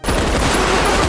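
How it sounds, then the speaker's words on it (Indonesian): A dense burst of rapid gunfire from an action film, a loud continuous rattle of shots filling the whole moment with no voices. "mereka langsung memberondongnya dengan tembakan"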